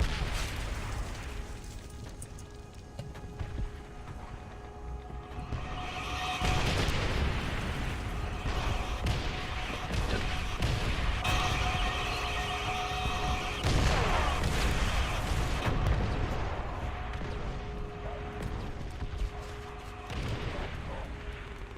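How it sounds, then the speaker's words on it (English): An enemy artillery barrage in Call of Duty: World at War multiplayer, with rolling booms and explosions layered over dense game noise and scattered gunfire, sustained and loud throughout, with some talk underneath. "Enemy artillery!"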